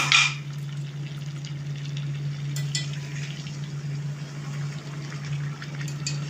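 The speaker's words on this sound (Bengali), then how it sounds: "এরপর আমি ঢাকা দিয়ে দিয়ে কষতে থাকবো" Chicken and potatoes cook covered in a pan over low gas, giving a soft steady sizzle with faint bubbling and a constant low hum throughout, with no voices.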